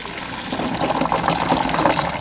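Drained water pours steadily off a batch of nixtamal hominy corn, a continuous close, loud gushing splash lasting throughout with no voices.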